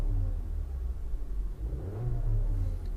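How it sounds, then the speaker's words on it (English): A Volkswagen Jetta SE engine hums steadily from inside the car while driving, a low continuous rumble that swells slightly as it accelerates, with no talking. "in terms of the performance of this engine, it feels really responsive"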